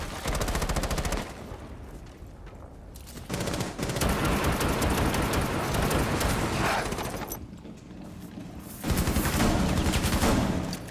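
Sustained video game gunfire in a containment event, loud rapid bursts that surge, ease off mid-clip and swell again toward the end, with no talking.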